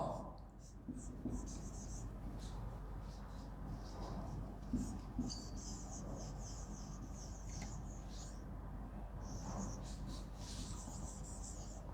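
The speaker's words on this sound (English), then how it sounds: "So let me write the definition over here." Marker or chalk writing a definition on a classroom board, faint scratchy strokes in short bursts throughout, under a steady room hum.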